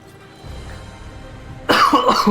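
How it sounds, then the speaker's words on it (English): Quiet room tone followed by a single loud, close cough with a short throaty rasp at the end. "I've got some random cough from nowhere."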